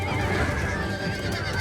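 Horse neighing in the video game Total War Attila during a multiplayer battle, a loud, sustained whinny heard close over continuous battle noise and hoofbeats.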